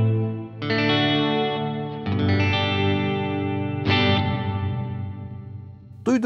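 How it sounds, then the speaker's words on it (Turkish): Guitar chords through a Universal Audio UAFX Heavenly Plate reverb pedal set to a darker, closed-in plate tone: three sustained strums each ring out and decay into a long, muffled tail. "Duyduğunuz gibi daha karanlık bir sound'a sahip bir reverb'ümüz oldu"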